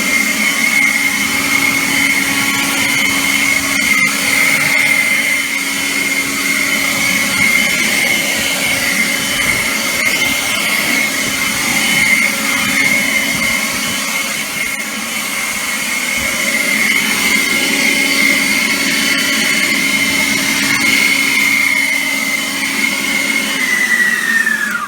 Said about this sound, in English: Now for blowing out your back window, very powerful tool.